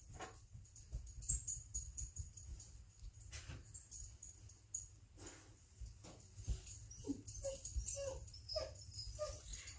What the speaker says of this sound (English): that is my dog whining.